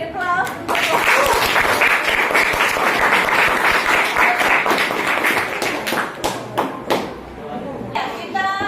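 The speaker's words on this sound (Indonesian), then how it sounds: "Beri aplaus untuk" An audience at an Indonesian health session claps together in a dense, loud burst of applause that thins into scattered individual claps, with a few raised voices mixed in.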